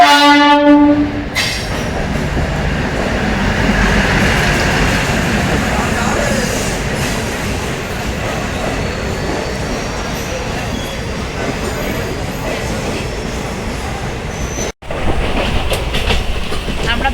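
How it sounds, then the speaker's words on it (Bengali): A passenger train pulls into a station about ten minutes late, loud and close with a horn at the start, then a continuous rumbling roar of wheels and carriages and faint clickety-clack on the rails. "ফাইনালি ট্রেন ঢুকছে এবার, 10 মিনিট লেট"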